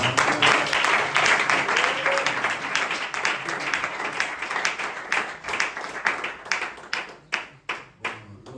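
A church congregation breaks into sustained applause during a prophetic worship service, a dense wash of clapping that thins into scattered, rhythmic claps toward the end.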